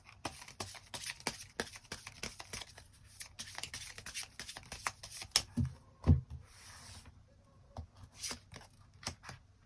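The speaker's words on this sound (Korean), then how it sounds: "추가 카드 뽑아보도록 하겠습니다" Tarot cards shuffled and drawn for a love reading, giving a long run of quick papery riffles and soft flicks at close range, with a few firmer slaps near the middle and no talking.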